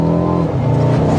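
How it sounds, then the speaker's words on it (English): A 2020 Mercedes-Benz CLA engine revving up, a loud, close, throaty exhaust roar that swells briefly and holds steady. "I love the way this car sounds. It's very throaty."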